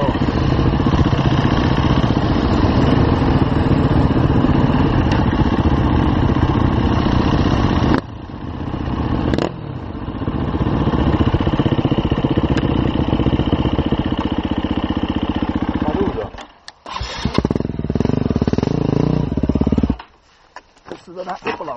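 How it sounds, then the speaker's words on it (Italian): An enduro motorcycle engine idles loudly and steadily, with a couple of brief drops in the rumble before it settles again; voices talk at times in Italian. "Senta, la moto di Gian Paolo."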